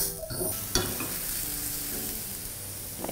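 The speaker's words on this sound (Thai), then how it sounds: "ผัดให้เห็ดสุก" Mushrooms stir-fried with soy sauce and sugar in a pan, a steady close sizzle with a sharp utensil clack and ongoing stirring scrapes.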